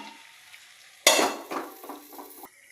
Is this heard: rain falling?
no